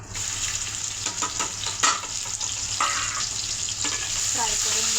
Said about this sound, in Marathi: अति तडतडलं कांदा टाकून देऊ